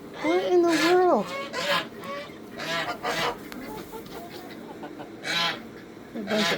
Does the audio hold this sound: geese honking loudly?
yes